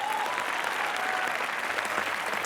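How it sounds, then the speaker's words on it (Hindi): Studio audience applauding on the Indian comedy show Comedy Nights With Kapil, a dense, steady wash of clapping that stays loud and even from start to finish with no gaps. "ठोको तालियां जरा जोरदार।"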